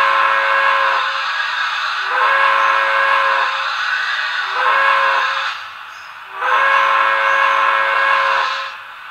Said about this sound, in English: F13 is a grade crossing horn.